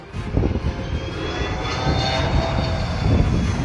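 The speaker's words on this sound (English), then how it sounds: "This landing plane hit wind shear, causing it to almost crash." Landing airplane caught in wind shear, a sustained loud engine drone with rumbling gusts and swelling throttle noise throughout, heard alone without voices.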